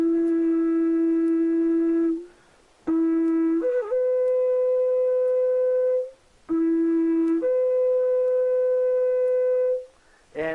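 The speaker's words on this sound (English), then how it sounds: "let me give you a quick demonstration of what a shofar actually does sound like." A shofar, a ram's horn, blown in three long separate blasts, each starting on a lower note and jumping up to a higher held tone, with brief silent gaps between them and no talking.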